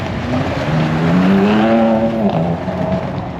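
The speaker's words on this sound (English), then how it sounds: "You can hear that turbo." 2025 Ram 1500 RHO trucks with the turbocharged engine pass by, their engine note sweeping upward and then falling as they go past, with a steady loud roar throughout.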